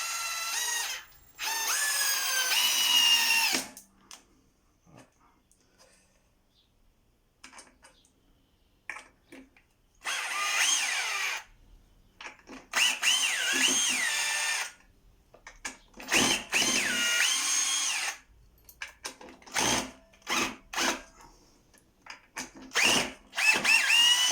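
An AEG BBH18C SDS rotary hammer drills loudly in repeated bursts, some long and some short, separated by quiet pauses.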